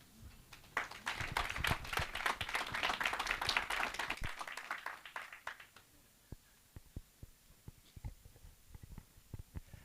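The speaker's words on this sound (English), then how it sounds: "give him a warm round of applause for the official opening and welcome" A conference audience applauds the official opening with a full round of clapping for about five seconds, then it tapers into scattered single claps.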